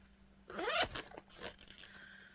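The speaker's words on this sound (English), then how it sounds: "It zips no problem." A zipper on a handbag pocket is pulled closed in one quick rising zip, followed by a few softer fabric rustles and tugs.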